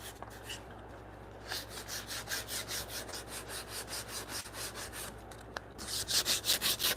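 Hand sanding smooths the edges of a wooden tenon during joinery fitting, close and quiet, with rhythmic back-and-forth rubbing strokes that start slow and grow faster and louder toward the end.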